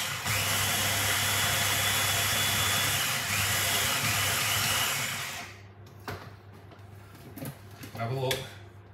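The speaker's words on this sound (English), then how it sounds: "So let's chop up our dry mixture a bit." A kitchen appliance buzzes loudly and steadily for about five seconds as it chops a dry oat parkin mixture, then stops, leaving a few knocks and handling sounds.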